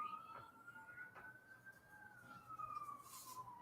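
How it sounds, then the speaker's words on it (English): An ambulance siren wails faintly in the distance in Las Vegas, its tone slowly rising and falling over a low background hum. "Starting the morning in Vegas. With ambulances."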